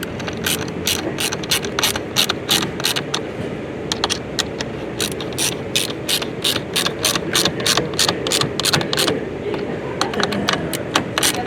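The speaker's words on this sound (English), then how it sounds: "Then using the 8mm socket, we're going to tighten it up" A ratchet with an 8mm socket rapidly clicks as bolts are tightened into metal J clips on a 2023-2026 BMW M240i, giving loud, close bursts of sharp pawl ticks with brief pauses between strokes.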